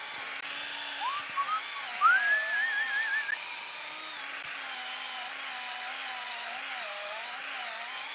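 A headlight polisher meant for auto-shop headlight cleaning runs with a steady, moderately loud motor hum, briefly rising into a higher whine for a couple of seconds before settling back to an even drone.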